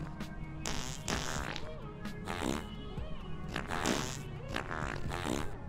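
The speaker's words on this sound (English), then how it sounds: "Why are you farting on my lawn?" Little creatures in the High On Life video game fart on a lawn in a quick run of wet, buzzing, rasping bursts, roughly evenly spaced and fairly close.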